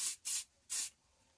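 Iridescent spray paint hisses out of a can inside a spray box in three short bursts, two close together and a third after a brief gap, near and fairly loud.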